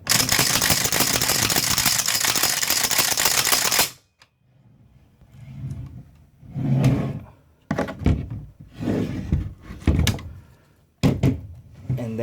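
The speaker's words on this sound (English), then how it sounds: "Okay, so I'm gonna charge the weapon." Charging handle of a Romanian Sar-1 AK-47 style rifle racked in a dim room, giving sharp metallic clacks and thunks after a few seconds of steady loud noise, with several separate mechanical impacts spaced irregularly.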